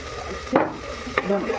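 Chilli, coriander and cumin powders stirred into a frying pan for pav bhaji, with a low steady sizzle broken by two brief, scraping stirs.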